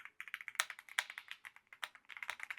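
Rapid clacky keystrokes on a Lofree Flow Lite mechanical keyboard, a quick uneven stream of sharp clicks, close and fairly quiet, with no speech.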